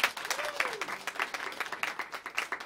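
A small audience at a live music club claps for a young performer, with fairly sparse, distinct hand claps in an uneven rhythm and a faint voice or tone in the background.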